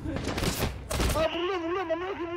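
Rapid gunfire in the combat game Six Days in Fallujah: dense crackling bursts for about a second, then a voice takes over as the shooting stops.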